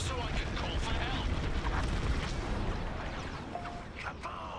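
An explosion in the Star Wars Squadrons space combat game, a rumbling blast amid the clatter of starfighter weapons and machinery, fading slightly toward the end while faint radio chatter sits underneath.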